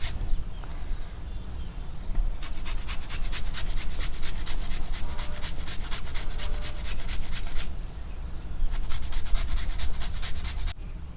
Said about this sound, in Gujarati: જો આપણે આવી રીતના ખમણી નાખ્યું છે.